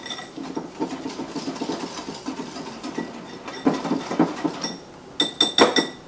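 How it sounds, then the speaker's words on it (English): Vanilla mixture whisked in a bowl for chocolate peanut butter swirl brownies, a steady run of quick light clinks and scrapes that turns into louder, sharper metallic taps near the end, with no talking. "you're going to whisk this together until well blended"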